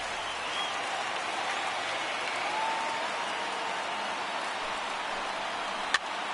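Crowd of about 21,000 in a baseball video game stadium, a steady broad roar of cheering and clapping that holds at an even level, with one brief sharp click near the end.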